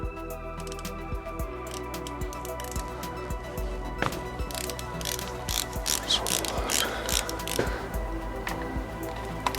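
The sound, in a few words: ratchet loosening Lamborghini Murcielago dry sump drain plugs, 8 mm hex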